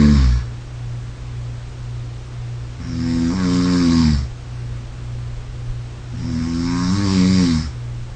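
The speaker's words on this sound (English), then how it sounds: "which indicates snoring at night." Recorded human snoring at night, two long, loud rasping breaths a few seconds apart over a steady low hum, with quiet pauses between them.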